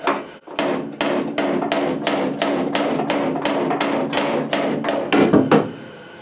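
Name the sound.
small round hammer knocking out dent in Chevy C10 cab metal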